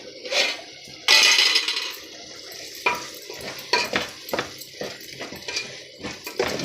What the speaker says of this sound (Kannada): ಒಗ್ಗರಣೆ ಹಾಕಿ ಕುದಿತಾ ಇದೆ ಫ್ರೆಂಡ್ಸ್